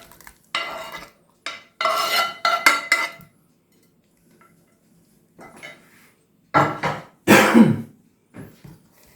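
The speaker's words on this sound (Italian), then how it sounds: "riprendiamo il nostro impasto e andiamo ad aggiungere le mele." Sliced apples go into a soft cake batter in a bowl, followed by short bursts of spoon scraping and stirring, close and clear, with quiet gaps between the strokes.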